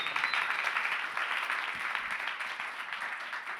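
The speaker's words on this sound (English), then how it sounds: "You can applaud for the library." Audience applause at an SXSW 2024 panel talk: a dense burst of many hands clapping in a hall, loud at first and slowly easing off over a few seconds.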